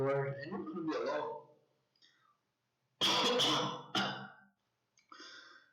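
A man coughs and clears his throat in close, loud bursts, with a short rough hack followed by a harsher double cough and a fainter throaty rasp, while speech-like voice sounds come through nearby.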